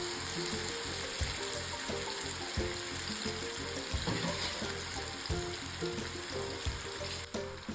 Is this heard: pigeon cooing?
no